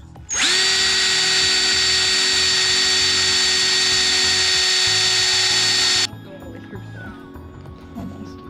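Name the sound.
power drill drilling holes in metal for CB install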